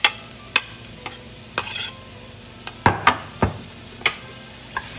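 Onions, garlic and parsley stems sizzle quietly in oil in a pan while a utensil gives them several sharp, separate stirring scrapes and knocks, close up, with no voices.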